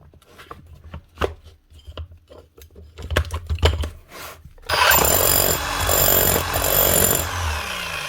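A rebuilt Makita, Bosch or Metabo rotary hammer: first a run of irregular sharp knocks and taps, then the tool starts up into a loud, dense, continuous rattling roar that holds steady to the end.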